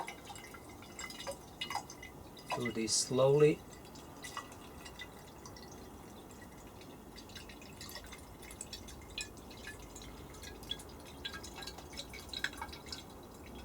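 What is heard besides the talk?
C41 colour developer chemistry poured into a bottle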